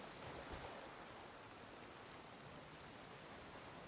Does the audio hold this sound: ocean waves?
yes